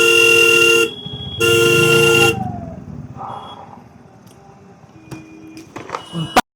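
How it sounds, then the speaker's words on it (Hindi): A loud nearby Royal Enfield Hunter 350 motorcycle horn sounds in two long blasts in heavy traffic, followed by quieter traffic noise and a few shorter honks in the distance. "हॉर्न मार के देखता हूँ"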